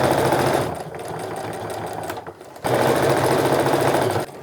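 A sewing machine runs in steady bursts while stitching a tote bag's lining and handles, a loud close whir that stops briefly midway before starting again at full speed.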